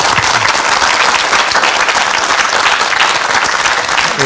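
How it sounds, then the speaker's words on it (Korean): Applause from a Korean lecture audience welcoming the speaker: loud, dense clapping held evenly throughout, close and continuous. "박수로 강의 청해 주세요."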